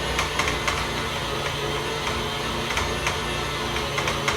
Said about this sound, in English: And poor mixer, getting old.